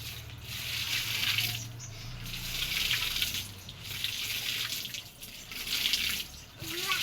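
Water runs from a newly installed tap at a farm field in steady, splashing surges with faint drips. Nearby rustling and handling can be heard, and nobody speaks.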